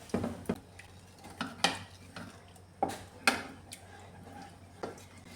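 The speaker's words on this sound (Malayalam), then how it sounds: "നന്നായിട്ട് ഇളക്കി കൊടുത്തുകൊണ്ടിരിക്കണം, അല്ലെങ്കിൽ ഇത് പിരിഞ്ഞു പോകാനിടയുണ്ട്." Milk and kozhukattai flour mixture being stirred in a pan, with intermittent scraping and knocking of the spoon against the pan at an uneven rhythm, close and fairly quiet.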